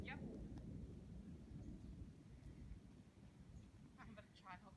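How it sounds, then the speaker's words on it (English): Distant thunder rolls low through a forest near Idaho City, a deep rumbling wash that fills the whole clip, with a few faint bird chirps near the end. "Oh man, I just heard some thunder."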